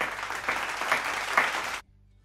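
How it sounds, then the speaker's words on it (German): A short burst of applause, clapping at a fairly even level for under two seconds before it cuts off abruptly into silence. "Einen Applaus bitte."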